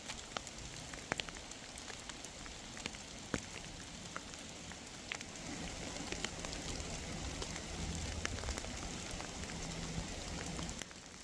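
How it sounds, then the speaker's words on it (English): Steady rain falls through October woods where wild mushrooms grow, a constant hiss of drops with scattered sharper taps on leaves and gear nearby, growing slightly heavier over time. "it's really raining out here now"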